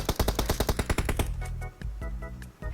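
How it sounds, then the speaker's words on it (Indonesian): Rapid automatic gunfire in PUBG Mobile: a fast, even string of about ten sharp shots, then a few sparser, softer shots spaced apart, with no talking. "gue mau nembak yang jauh tu dulu"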